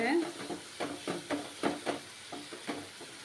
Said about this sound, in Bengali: মশলাগুলো ভালোভাবে কষাতে হবে। মশলাটার থেকে এখন তেল ছাড়তে শুরু করেছে।